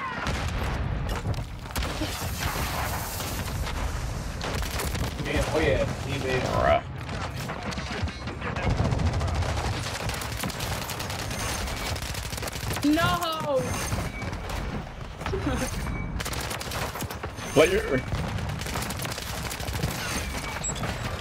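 AMR9 gunfire in Modern Warfare 3 multiplayer: repeated bursts of rapid shots and impacts over a busy battle bed, with a loud spike near the end and people talking at times.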